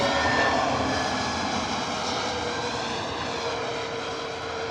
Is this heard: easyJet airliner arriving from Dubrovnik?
yes